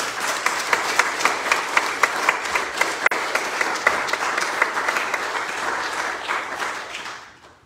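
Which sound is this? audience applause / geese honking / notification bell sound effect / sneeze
audience applause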